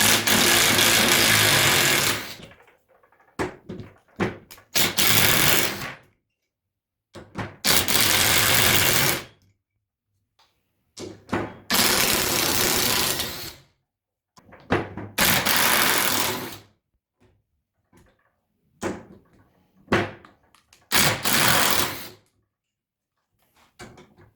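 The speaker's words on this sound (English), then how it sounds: "As you can see, it's doing a great job, thumbs up. It can handle all the screws" A PARKSIDE PDSSA 20-Li A1 cordless impact driver drives screws in repeated loud bursts of rattling hammering, each lasting a few seconds and separated by short silences, up close with no talking.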